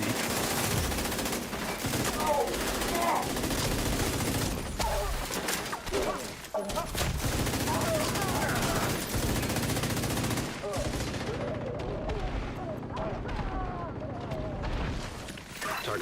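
Gunfire from the video game The Division during a PvE farming session, rapid bursts of shots running almost throughout and mixed with game effects and voices talking over it.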